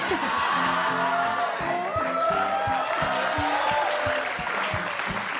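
Studio audience clapping on an Indonesian television talk show, a dense, steady wash of applause with scattered whoops, heard at close range, filling the whole stretch without pause.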